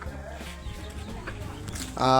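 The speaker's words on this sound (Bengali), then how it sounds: "এই যে গলাছিলা মুরগি এই দেখেন গলাছিলা মুরগিটা" Naked neck chicken clucking near and intermittent, under continuous talking, with a louder burst of sound at the end.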